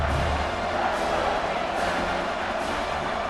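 A big stadium crowd roars steadily in a College Football 26 game of Texas against Georgia, a constant wash of cheering noise with a few faint thuds and no clear breaks.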